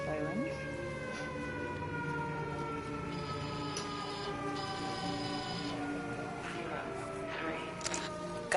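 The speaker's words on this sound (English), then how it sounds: "I have air raid sirens." Video game air raid sirens wail continuously in overlapping tones, steady and loud throughout, with a low rumbling bed beneath.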